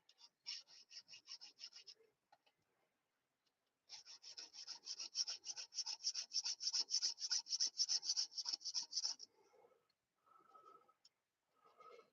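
A tool is sharpened by hand with quick, rhythmic rasping strokes, a short burst followed by a pause and then a longer steady run of strokes, heard close but quiet.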